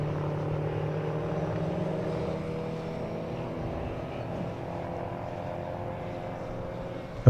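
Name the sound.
Ligier race car approaching braking zone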